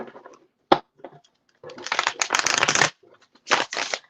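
Stiff tarot cards are shuffled up close in several riffling bursts, crisp and papery, separated by short pauses.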